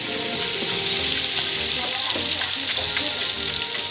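Dark soy sauce sizzles in a hot wok while blue crab with egg is stir-fried, a loud, continuous hiss and crackle of frying with occasional scraping stirs throughout.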